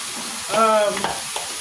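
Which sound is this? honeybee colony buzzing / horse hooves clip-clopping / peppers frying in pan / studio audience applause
peppers frying in pan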